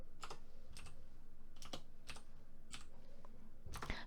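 Keys clack on a computer keyboard in short bursts of several strokes, close and crisp, with a brief pause between each group and no talking.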